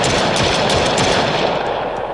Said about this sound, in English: So we shot 7 bullets, we removed 7 bullets.